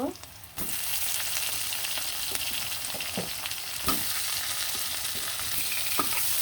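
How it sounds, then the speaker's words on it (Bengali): Chopped tomatoes are stirred into frying onions in a pan, bringing a constant bright sizzle from close by. A few soft scrapes of the spatula cut in at intervals, and no voices are heard. "টমেটোগুলো দিয়ে ভালো করে লাড়াচাড়া দিয়ে দিব"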